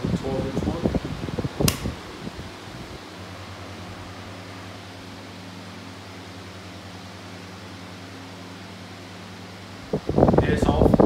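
A 12-inch Limit electric fan whirs with a steady, even hum and air rush for several seconds, bracketed by brief handling noises and speech at the start and end.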